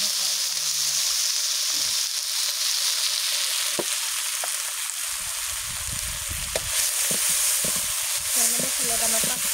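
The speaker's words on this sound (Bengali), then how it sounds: "মশলাটা আমার 5 মিনিট সুন্দর করে ভাজতে হবে" Spice paste with garlic paste, green chilies and five-spice sizzles loudly in a pan on a clay stove. It fries steadily up close, with intermittent scraping and stirring throughout.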